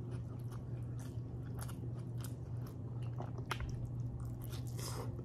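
Close, soft chewing and squishy bites of grilled shrimp at a Filipino mukbang meal, with moist crunches repeating irregularly over a low steady background hum.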